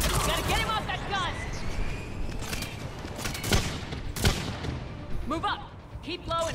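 Rapid gunfire bursts and sharp cracks in a video game battle near a shuttle craft and a mounted gun, loud shots scattered under voices calling out orders.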